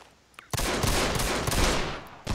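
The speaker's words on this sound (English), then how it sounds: "I shot four times, sorry." Pistol shots in the Enemy Front multiplayer shooter, a burst of gunfire echoing over roughly two seconds with a sharp final shot at the end, no voices.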